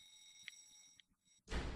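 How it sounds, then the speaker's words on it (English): A fire alarm rings in the video game Recollect, a steady high electronic tone with faint pulses, quiet and distant, cut off by a sudden loud burst of noise at the end. "Why is the fire alarm going?"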